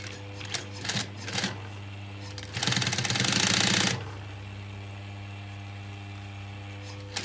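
A sewing machine stitches along a leather jacket seam in a rapid mechanical burst lasting about a second, preceded by a few short clicks and starts, with a steady motor hum underneath and quiet pauses after.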